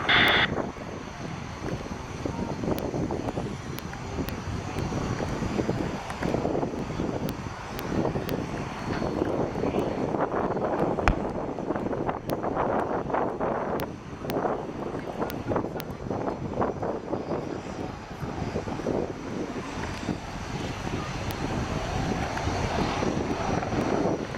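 An RAF Apache helicopter flies a display at the Royal International Air Tattoo, its rotor and engine drone rising and falling steadily at a distance across an open airfield, with scattered sharp pops and crackles over the continuous roar.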